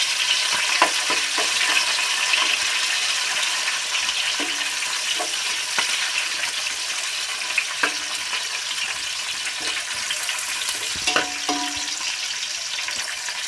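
Eggplant and tomato fry in hot oil with a constant, close sizzle, punctuated by a handful of sharp spatula clinks and stirring knocks against the pan; no one speaks.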